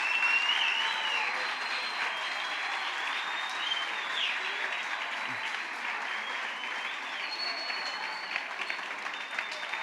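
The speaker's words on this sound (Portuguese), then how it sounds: "Dá uma salva de palmas bem forte para Jesus" A congregation at a youth church retreat applauds loudly, a dense, sustained wash of clapping and cheering that fills the whole stretch at a steady level, with faint voices mixed in.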